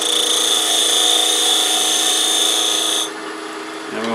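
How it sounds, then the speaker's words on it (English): A half-inch spindle gouge rides the bevel and cuts into wood spinning on a lathe while an acorn box is turned, giving a steady, close, continuous hissing scrape that stops abruptly near the end. "a half inch spindle gouge, ABC, anchor the tool, ride the bevel on the back, slowly lift the handle until it cuts"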